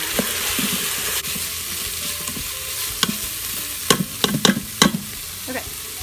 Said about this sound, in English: And stir it around.